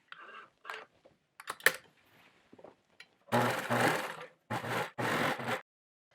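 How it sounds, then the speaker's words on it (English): A sewing machine stitching a hem on pants runs in short bursts, first with light clicks and quick taps, then in three loud, close whirring runs of about a second each. "Just fold here and stitch."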